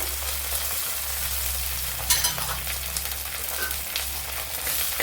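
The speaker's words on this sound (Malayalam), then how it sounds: "ഇതിനെ ഇനി ഒന്ന് നല്ലപോലെ ഒന്ന് വഴറ്റിയെടുക്കുക" Garlic, green chili, ginger and curry leaves sautéing in a pan with a steady, close sizzle and a few brief stirring scrapes.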